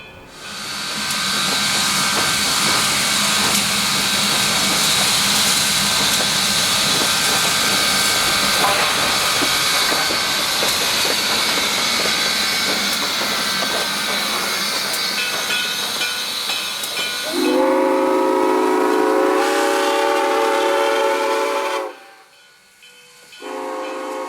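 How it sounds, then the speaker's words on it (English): Great Smoky Mountains Railroad steam locomotive 1702 runs past in the rail yard, with loud, steady steam hissing throughout, then a brief whistle-like tone near the end before the sound drops away. "1702 uncoupled from the consist and ran past us to the west end of Bryson Yard."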